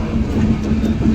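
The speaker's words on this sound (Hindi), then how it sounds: "हमारी ट्रेन निकल गई है अभी न्यू बंगाई गांव से" The Kamakhya Express passenger train runs just after leaving New Bongaigaon station, with a steady, close rumble of wheels and carriages and no talk.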